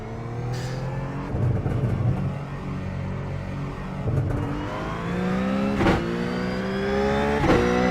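A Ruf GT3 race car in iRacing at Monza runs steadily with its engine rising and falling through several revving sweeps, a loud continuous rumble with sharp bursts near the middle and end.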